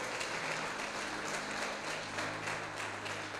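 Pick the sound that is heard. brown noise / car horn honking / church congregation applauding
church congregation applauding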